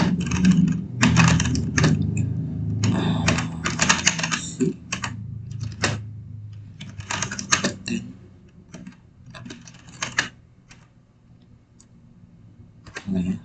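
Computer keyboard keys typing MySQL commands in bursts of rapid clicks with short pauses, heard close up while a person speaks over much of the typing.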